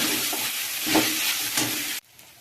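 Steady loud sizzling and scraping as sago with peanuts is stirred in a hot frying pan, cutting off abruptly near the end.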